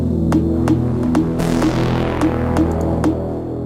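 Synth pads in FL Studio sit under a thick, droning mix with a steady throbbing hum, while sharp high ticks pulse about every half second.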